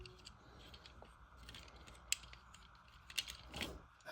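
Ratcheting leg and shin joints on a Transformers Studio Series 86 Megatron toy being folded, giving a few sparse, quiet plastic clicks against a soft background hiss.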